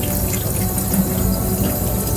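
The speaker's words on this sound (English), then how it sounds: "Finally, water the plants, and when the water from the bottom is clear," Water is poured over freshly repotted Nepenthes pitcher plants and drains out the bottom of the pots, a steady close splashing trickle with no talking.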